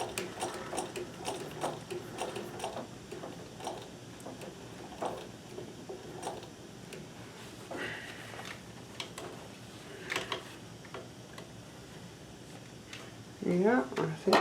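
A Necchi BU Nova sewing machine stitches a shirt cuff in short bursts of rapid mechanical ticking and clatter, fairly close, with a person talking over and between the runs.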